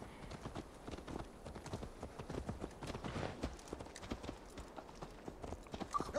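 Horse hooves clip-clop steadily in Assassin's Creed Valhalla, a dense run of quick hoofbeats over a constant ambient bed of game sound, moderately loud throughout with no voices.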